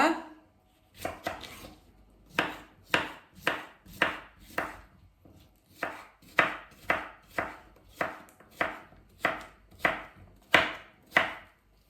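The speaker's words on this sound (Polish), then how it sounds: "Ja mam tutaj ogórek zielony, dwie sztuki. Kroję w kosteczkę." Steady, rhythmic knife chops dicing green cucumber on a cutting board, about twenty crisp strikes in a regular beat, close and clear with no talking.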